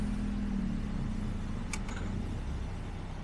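A car creeps through an extremely tight, narrow lane, its engine a low steady hum held close throughout, with a brief faint scrape or click near the middle and no talking.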